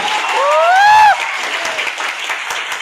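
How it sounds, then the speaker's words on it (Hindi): Applause breaks out for a company at a career training program in Bharuch, Gujarat, with a bright sweeping electronic tone gliding over the opening second. Steady crowd clapping then continues evenly to the end. "इसके लिए जोरदार तालियां बजाइए।"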